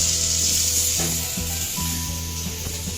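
Chilies frying over onion and garlic in a pan, a steady bright sizzle throughout with a few stirring scrapes and a faint background hum, close and continuous with no talking.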